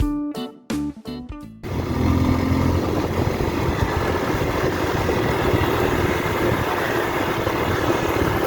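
A BigBoy TSR 250 motorcycle engine runs on trails, starting after a few brief sharp knocks and then holding a steady, loud, broadband drone close to the rider.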